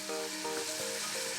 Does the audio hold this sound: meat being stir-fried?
yes